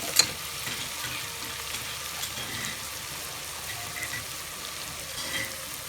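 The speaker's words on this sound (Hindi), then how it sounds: "हल्दी भी डालते हैं, नमक भी डालते हैं और मसाले को अच्छे तरीके से भून लेते हैं।" A spice masala of turmeric and salt frying in a pan for a mung and masoor dal tarka gives a soft, steady sizzle with faint scraping stirs, low and continuous, with no talking.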